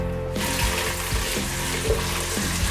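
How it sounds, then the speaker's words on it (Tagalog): Potatoes fry in a couple of tablespoons of oil in a pan, giving a loud continuous sizzle with periodic scraping knocks as they are stirred, all without talk. "Piprito lang natin yung ating patatas."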